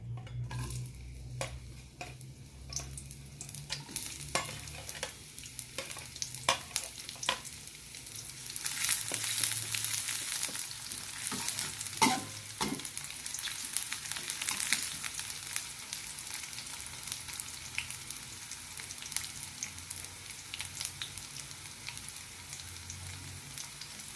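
Garlic and shallots frying in hot oil while being stirred, a steady sizzle broken by repeated scraping and clinks of a spatula against the pan, with no voices.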